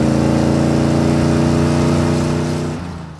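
A 1953 Chevrolet 3100 pickup with a 283 engine drives along with a loud, close, steady engine drone and exhaust rumble that fades away over the last half second.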